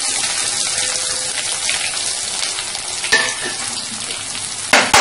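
Shallots sautéing with curry leaves and mustard seeds in hot oil for a black chickpea kulambu, giving a loud, steady close-up sizzle and crackle throughout, with a brief clatter near the end and no talking.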